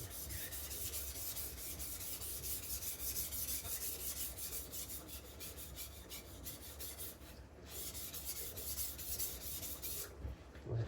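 A Tojiro kiritsuke kitchen knife is drawn across a Naniwa whetstone with light pressure, giving a steady, continuous gritty rasp of close strokes, quiet and alone with no talking.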